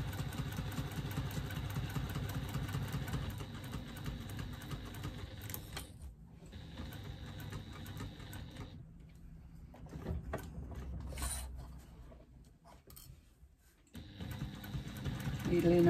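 A sewing machine stitches around a bag slip pocket with a 1/4 inch seam allowance, making a faint, steady mechanical whir in bursts with short pauses as the fabric pivots, while someone talks over it.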